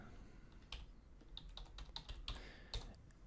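Quick, close keystrokes on a computer keyboard, a short burst of light clicks typing a search term into a menu, quiet and alone.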